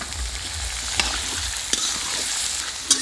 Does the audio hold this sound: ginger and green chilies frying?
yes